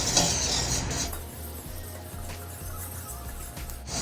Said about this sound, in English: Next, we're going to whisk all the ingredients together until they're well combined.